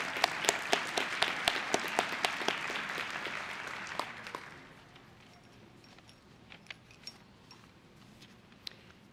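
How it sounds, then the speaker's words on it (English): Applause from a ceremony audience for county award winners, with moderate clapping that fades after about four seconds into a few scattered, isolated claps. "Let's have a round of applause for all our county award winners."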